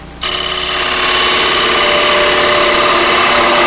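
A wood lathe spins a quaiche bowl while a bevel-guided gouge cuts it, opening with a sudden loud onset into a sustained bright, hissing shaving roar over the motor's steady hum.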